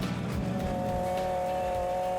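World Rally cars on a tarmac rally stage in Donegal, Ireland, with a steady, loud engine drone and a sustained high whine, continuous throughout without any voices.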